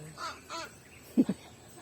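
A serpent eagle calling at the Philippine Eagle Center, two short, sharp, fairly close cries after faint voices in the background.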